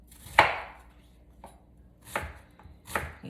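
A knife chops red onion on a cutting board: four or five sharp, close thuds spaced unevenly across a few seconds, with quiet pauses between them and no voices.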